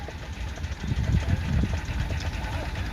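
Burrell miniature traction engine running at an outdoor miniature traction engine parade, a steady low mechanical chugging close by with people talking over it in the open air.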